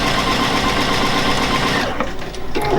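A Juki DX7 sewing machine stitches in a steady, loud, close mechanical whir, then slows and stops near the end.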